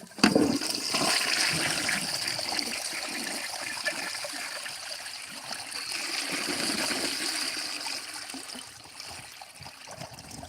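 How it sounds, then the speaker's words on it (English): An old-style toilet flushing with a strong, sustained rush of water that gurgles and trickles as the tank refills, loud and close with no talking. "Now this is how a toilet should flush."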